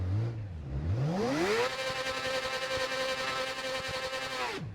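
Motorcycle engine in the RIDE 4 racing game revs up in a rising whine, then holds a steady high-pitched drone for several seconds before cutting off abruptly, loud and close with no talk.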